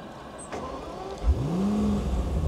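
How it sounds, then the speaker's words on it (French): Aston Martin V12 Speedster starting up, a short whirr of the starter followed by the engine catching with a rising then settling deep roar, heard close and without talking. "si je démarre la voiture"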